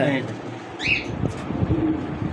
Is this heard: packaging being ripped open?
no